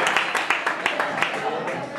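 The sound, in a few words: audience applause for a friend at a concert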